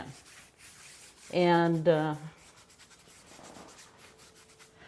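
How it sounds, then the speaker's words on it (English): A paintbrush scrubbing colour onto a surface in short, dry rubbing strokes, faint and close, briefly covered by one spoken word. "with this brush, I can scrub, and that's one reason why I like working with a bright first, because I can scrub the color in."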